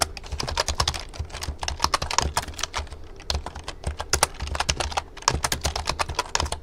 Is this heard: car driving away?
no